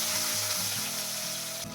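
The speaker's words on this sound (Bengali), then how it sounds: "মাছগুলোকে ভাজার জন্য তেলে দিয়ে দিচ্ছি।" Fish fries in hot mustard oil, a loud, steady, close hiss and crackle that fills the whole moment without pause or voices.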